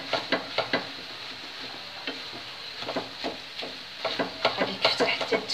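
Kofta frying with vegetables in a pan, a steady sizzle under repeated sharp taps and scrapes of a utensil against the pan, close up, growing busier toward the end.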